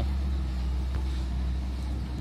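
Loaded trucks carrying stone material roll past on a village road with a sunken surface, a steady low engine and tyre rumble holding close and even throughout, with no voices.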